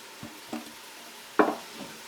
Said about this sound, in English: I'm going to add my squash.